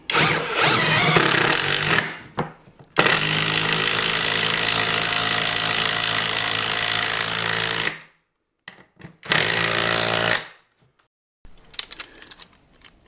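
A Greenworks impact driver drives a 2.5 inch lag screw through a single 2x4, with loud, sustained rapid hammering in long bursts, then pauses and shorter bursts, followed by scattered clicks and handling noises.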